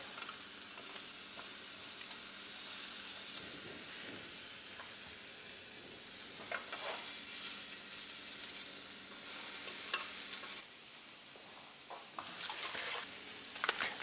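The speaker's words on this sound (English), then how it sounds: "We're gonna put some onions down." Onions fry on an electric skillet indoors with a dense, steady sizzle and hiss, punctuated by occasional scraping stirs, close and loud throughout with no talk.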